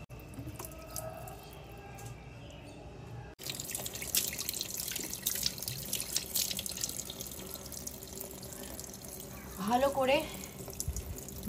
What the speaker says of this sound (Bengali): জল দিয়ে ধুয়ে নিলাম নর্মাল টেম্পারেচারে জল দিয়েছি আমি ঠান্ডাও নয় প্রচণ্ড গরমও নয়